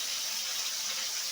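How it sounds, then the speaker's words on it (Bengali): Water is poured from a small amount onto ground spice paste in a pan while cooking a fish-head and bottle-gourd shukto, a steady, close, hissing stream with no talking. "একটু সামান্য জল দিলাম, নাহলে মশলাটা পুড়ে যাবে।"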